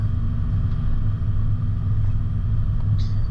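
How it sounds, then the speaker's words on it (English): A 4WD vehicle in low range engine braking down a gravel track, a loud steady low rumble with a continuous drone, a faint crunch of stones and a brief squeak near the end. "I think I just dropped down into low range there just to control my speed with a bit of engine braking"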